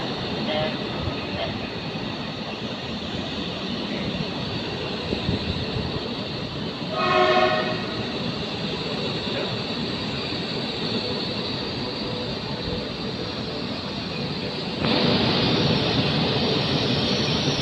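A high-speed train pulls in at Padalarang station with a steady loud rumble and rolling wheel noise throughout, a brief horn or whistle sounding partway through, heard close on the platform.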